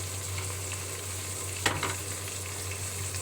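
Chicken with ginger-garlic paste and spices frying in a pan sizzles steadily up close, with a steady low hum underneath and one brief stir scrape in the middle.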